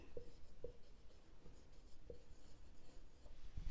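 Marker or chalk writing on a board during a maths lesson: soft scratchy strokes with a few sharp taps, close and quiet, with no talk.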